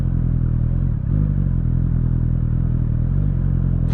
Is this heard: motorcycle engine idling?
yes